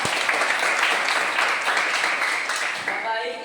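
Classroom applause during an Indonesian school lesson, a burst of clapping from students that holds steadily for a few seconds and then tails off, with a voice speaking briefly near the end.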